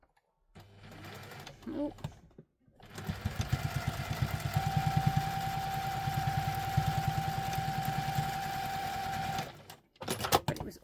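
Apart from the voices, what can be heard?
sewing machine stitching the sides of a wallet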